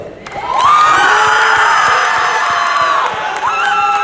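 A big cheering section at a university graduation ceremony erupts in loud, sustained whoops, shouts and cheers from a close crowd, holding steady for several seconds.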